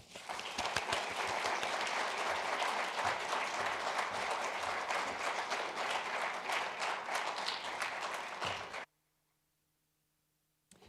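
A lecture audience gives sustained, dense applause welcoming Professor John Solomon, many hands clapping steadily for about nine seconds before it cuts to near silence.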